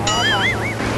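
Loud, constant rushing roar of Tat Kham waterfall in Nakhon Phanom fills the air, with a warbling whistle-like tone rising and falling over it.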